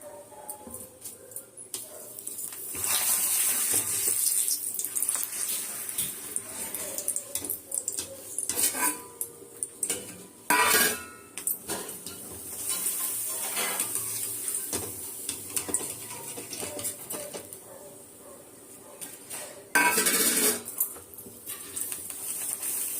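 Sizzling and crackling of papadums frying in hot oil, with clattering of pans and utensils in a home kitchen; bursts of louder hissing come and go.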